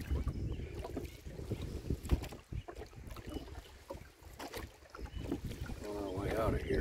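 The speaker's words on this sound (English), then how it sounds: "Headwind." Headwind buffets the microphone while a boat is rowed on Smith Creek in the evening, gusty rumbling noise with watery splashes and a voice speaking briefly.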